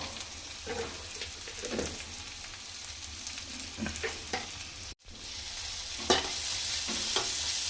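Spicy egg curry mixture being stirred in a pan, a steady scraping and mixing with a soft sizzle underneath, close and continuous, with a brief cut partway through.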